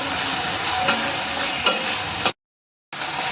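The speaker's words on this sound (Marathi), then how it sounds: "मध्यम आकाराचे 2 टोमॅटोवर थोडं मीठ घालायचं आणि परतून घ्यायचं." Two medium tomatoes with a little salt sauté in a pan after garlic paste, giving a steady close sizzle with a couple of stirring scrapes, then a brief cut to silence before the frying sound returns.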